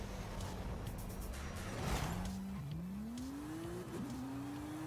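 A car in a racing video game revs close and loud, its engine note climbing in pitch, dipping at a gear change, then rising again over steady road noise.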